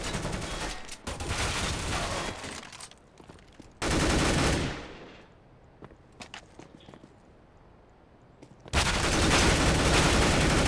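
Gunfire in the Filament video game: a sustained close burst of rapid shots, then a sharp loud volley, a quieter stretch of scattered clicks and steps, and another dense burst at the end.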